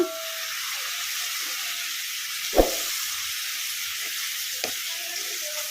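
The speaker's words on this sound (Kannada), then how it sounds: "ಇದನ್ನು ಮೀಡಿಯಮ್ ಫ್ಲೇಮಲ್ಲೇ ಫ್ರೈ ಮಾಡ್ಕೊಂಬಿಡೋಣ ಪಾಲಕ್ ಸೊಪ್ಪು ಮೆತ್ತಗಾಗೋವರೆಗೂ ಫ್ರೈ ಮಾಡ್ಕೊಂಬಿಡೋಣ" Chopped palak spinach fries in a pan over a medium flame, giving a soft, even hiss and sizzle throughout, broken by one sharp clatter of a spoon near the middle and a lighter tap later.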